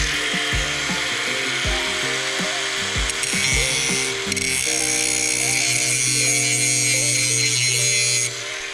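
A grinder works on the brake of a kids bike trailer, its motor whining with shifting pitch as it bites and rubs against metal, loud and close, with a few brief pauses.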